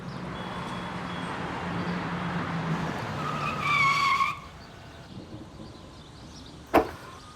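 A temperamental motorbike sputters: a low engine rumble, then a brief rising mechanical whine that cuts out abruptly, followed by quiet and one sharp knock.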